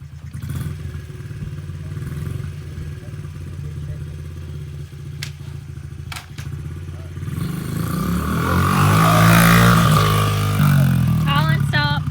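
A child rides a small motorcycle, its engine droning steadily and then rising in a louder rev toward the end, with adult voices talking over it.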